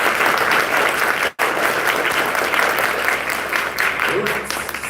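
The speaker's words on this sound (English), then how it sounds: "Can we please give them a big round of applause" A crowd gives a sustained, dense round of applause, loud and close, broken by one brief dropout, with faint voices underneath.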